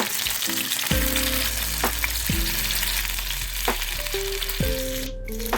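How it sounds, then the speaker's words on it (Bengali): Pieces of bata fish, prepared for a sesame-paste dish, are dropped one by one into hot oil, giving a strong continuous sizzle. Several distinct thuds and clinks mark each piece going in, up close and without speech. "এবার গরম তেলে আমি এক এক করে মাছগুলো ছেড়ে দিচ্ছি।"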